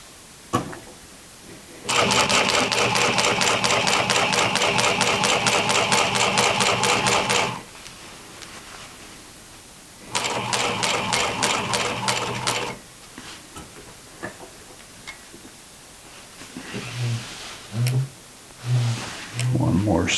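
A sewing machine stitching denim jeans, two long runs of fast, steady needle clatter close by, separated by a pause, then a few short stitch bursts and handling clunks near the end.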